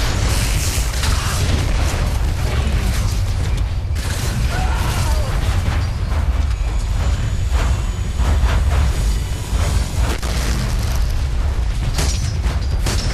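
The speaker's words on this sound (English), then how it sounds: "This guy just gets distracted while I take pot shots with him at him with my cannon." Titan cannon fire in the Titanfall video game, a dense run of booming shots and explosions over constant loud battle noise, with no clear pauses.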